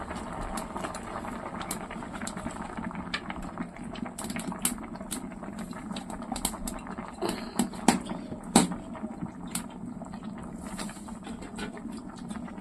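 Vegetables boiling in a pot give a soft, steady bubbling patter close by, with occasional small pops and a faint clink partway through.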